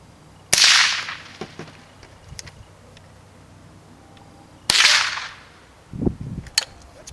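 Two sharp suppressed rifle shots, loud and close, a few seconds apart in a suppressor noise test, with faint clicks and handling noise between them and a dull thump near the end.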